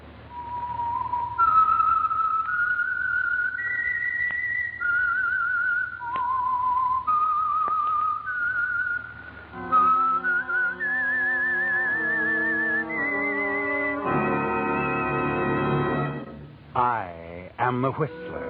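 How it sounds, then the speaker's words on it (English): A lone whistler performs the eerie theme melody of the old CBS radio drama The Whistler, a series of clear sustained notes stepping up and down, followed by a brief orchestral passage with layered tones. "That whistle is your signal for the Signal Oil program,"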